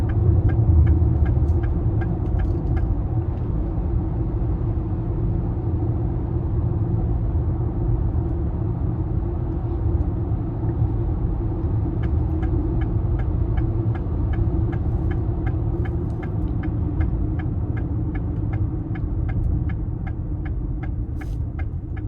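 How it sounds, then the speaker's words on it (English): A 2026 Lincoln Nautilus Reserve II AWD's engine runs with a soft, steady low hum and faint, regular ticking, heard from close by and without any talking. "Just a very quiet sound coming from the engine bay."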